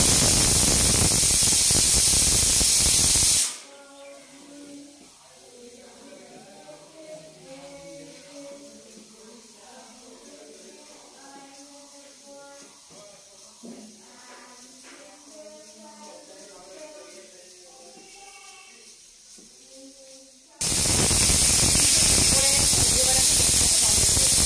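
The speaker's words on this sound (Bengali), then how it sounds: "এবার প্রেসার কুকারটার ঢাকনাটা বন্ধ করে দিয়ে আমি 3টে সিটি মেরে নেবো যাতে ভালো করে সেদ্ধ হয়ে যায়।" Loud steam hiss rushes from a pressure cooker, with its lid sealed while potatoes boil for chicken kebab, in a burst at the start and another at the end. A much quieter, murmuring stretch lies between them.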